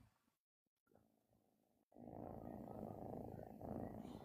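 A house cat purring close up, a low rumbling, steady purr that starts faintly, breaks off briefly, then returns louder and continuous for several seconds.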